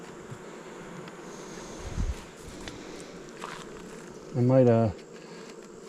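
Honeybees around a new beehive buzz faintly in the background, with a louder close pass near the end, a few rustles and thumps, and a brief murmured voice.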